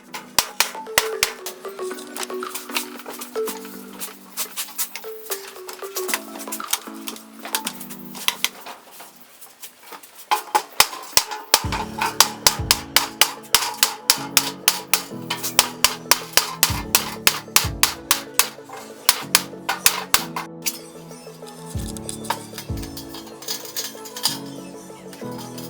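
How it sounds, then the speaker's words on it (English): Metal sheet for a rope pump cover being hammered through a piece of wood, with dense repeated sharp knocks and clinks coming in quick bursts, loud and close, without talk. "Use a piece of wood and a hammer to avoid deforming the sheet."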